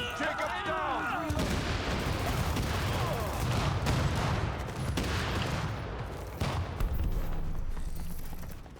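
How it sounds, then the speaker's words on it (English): Heavy, sustained gunfire and booming artillery-like blasts from The Division video game, a dense loud barrage with overlapping shots and bursts that runs continuously for several seconds. "Heavy fire."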